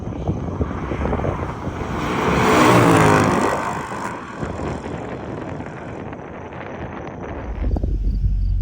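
Steady road roar from a Jeep driving along, loud and close, with a passing whoosh swelling in the middle and fading, no talking.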